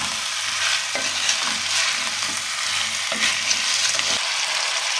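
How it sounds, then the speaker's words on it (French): Spring vegetables for a vegetable navarin sauté in a pot, giving a continuous soft sizzle with periodic stirring scrapes spaced about a second apart, close by and without any talk. "on va laisser revenir 3-4 minutes nos petits légumes comme ça"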